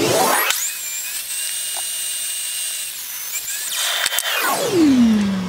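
An electric saw whines up to speed, cuts steadily through a hardwood board for a few seconds, then winds down; no voices.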